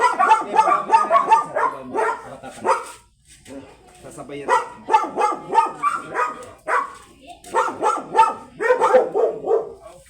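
A Belgian Malinois dog barks repeatedly in rapid bursts, close and loud, with brief pauses between volleys and a voice speaking once.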